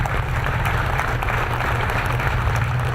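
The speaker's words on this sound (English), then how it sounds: "a tremendous round of applause for this local hero" A crowd of police officers from departments across the state applauds steadily outside Yale hospital as Norwich officer Jonathan Lay leaves, a dense, continuous clapping that holds at full strength throughout.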